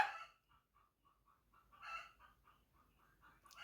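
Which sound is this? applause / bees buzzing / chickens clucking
chickens clucking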